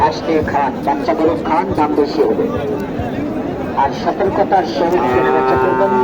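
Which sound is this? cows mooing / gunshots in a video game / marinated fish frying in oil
cows mooing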